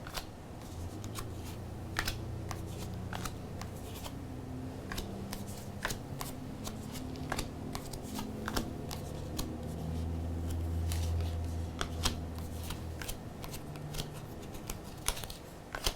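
Tarot cards are shuffled close up over many seconds, a steady rapid flutter of riffling and flicking with sharp card snaps throughout and no voice.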